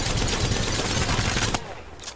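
Sustained automatic gunfire from an Apex Legends firefight, loud and dense for about a second and a half before cutting off abruptly, followed by quieter residual sound and a faint distant burst.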